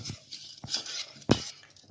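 A spoon scrapes and clinks against a pot in a few irregular strokes, with one sharper knock partway through; quiet and close, no voices.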